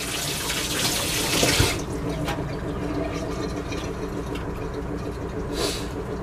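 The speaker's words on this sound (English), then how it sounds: "Now I'm gonna rinse my hands off." Tap water runs into a kitchen sink while hands are rinsed, a close, steady splashing stream that briefly gets louder and then settles to an even flow.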